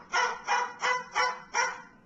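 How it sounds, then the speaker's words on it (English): Barking inside a house: five sharp, evenly spaced barks, close and loud, with short silences between them. "it drives me nuts when a dog barks in the house."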